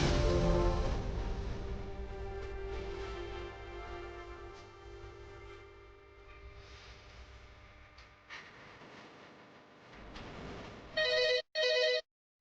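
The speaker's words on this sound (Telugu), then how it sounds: "కాలర్ ఫోన్ చేశారు, మాట్లాడదాం." A telephone rings for an incoming caller on a TV phone-in programme, a sustained electronic ringtone with harmonic tones that fades, then two loud bursts near the end, with no talking.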